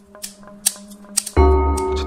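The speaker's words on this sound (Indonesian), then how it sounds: "kayak ada lagi gunting kuku" Nail clipper clicking: a few sharp, crisp clicks spaced apart, then a loud sustained ringing tone takes over for the rest.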